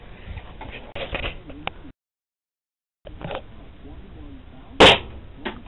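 A single sharp gunshot cracks out near the end at a basement shooting range. Softer clicks and faint talk come before it, with a brief gap of silence in the middle.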